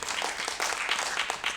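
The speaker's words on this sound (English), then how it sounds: "Let's give them a round of applause." Short burst of audience applause at a film festival Q&A screening, close and lively clapping with distinct individual claps standing out from the crowd.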